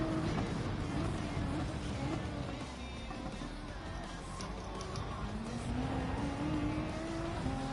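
Race cars roar through a Gran Turismo 7 race, a Genesis among them, with a dense, steady engine drone, pitch climbing and falling as they accelerate along the straight. A commentator talks over the racing.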